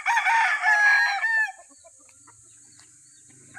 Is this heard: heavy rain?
no